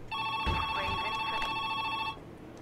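A telephone rings inside a diner-themed video game, a steady electronic bell tone repeating for about two seconds, loud and close, then cutting off to quiet room ambience.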